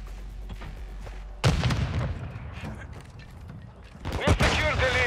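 In a hardcore team deathmatch video game, a grenade explosion bursts loudly mid-clip with rapid gunfire and booms, then another sharp blast and crackling shots near the end over a low rumbling background.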